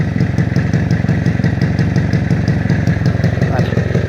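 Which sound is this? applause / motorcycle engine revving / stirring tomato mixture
motorcycle engine revving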